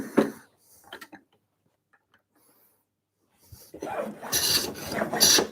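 A cabinet scraper shaves wood in a few short, dry scraping strokes, faint at first and then louder and rasping near the end, with quiet gaps between them.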